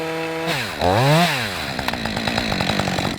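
Chainsaw revving and cutting through scrub during habitat management work, a loud rising and falling engine whine that bogs down as it bites into stems, continuous and close with no talk.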